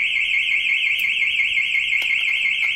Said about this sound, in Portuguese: Ó o alarmezinho, velho.